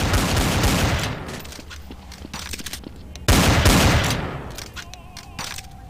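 Heavy gunfire fills the Dust2 map in Counter-Strike: Source, a dense, continuous fusillade of overlapping shots that swells, dips, then surges loud again before tapering off.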